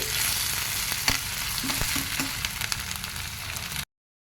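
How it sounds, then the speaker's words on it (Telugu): Chicken curry masala with mint fries steadily in a pan, with scattered crackles and pops over a constant sizzle before it cuts to silence. "అందులో ఇంక కొంచెం పుదీనా వేసేసుకొని ఇవన్నీ చక్కగా కలుపుకొని కొంచెం బ్రౌన్ కలర్లోకి వచ్చేలాగా వేయించుకోవాలండి"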